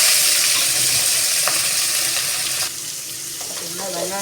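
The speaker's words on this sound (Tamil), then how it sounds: "கட் பண்ணி வச்சுருக்கிற வெங்காயத்தை போட்டுக்கலாம்." Chopped onions drop into hot oil in a pan with chana dal and fennel seeds, giving a loud, steady sizzle and frying hiss close up throughout, with no talking.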